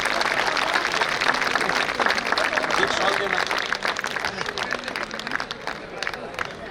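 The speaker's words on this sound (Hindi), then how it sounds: "इनके लिए ताली बजाइए" A crowd at a Hindu community gathering applauds in a continuous wash of clapping and murmur while someone speaks over it, the clapping easing slightly toward the end.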